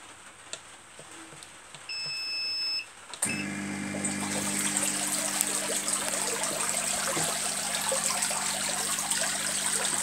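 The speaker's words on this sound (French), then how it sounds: "l'eau, elle sort assez bien, avec pas mal de pression" An Intex e90 spa pump is switched on partway through, after a quiet stretch with faint beeps, and water then rushes out under pressure in a loud, steady, close gushing flow.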